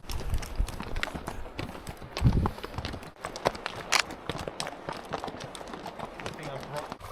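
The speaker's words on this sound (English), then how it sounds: "Wow, what a horse ride." Horses' hooves clip-clop in an irregular trotting rhythm during a group horse ride, close by and moderately loud. Riders chat over the hoofbeats.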